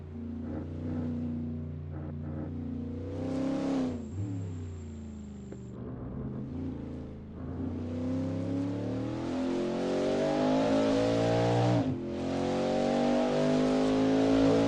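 A Corvette race car in Assetto Corsa at Le Mans, a 1960s World Sportscar race, revs hard through the gears with loud, clear engine tones, drops off briefly on downshifts, then pulls away again with a rising roar.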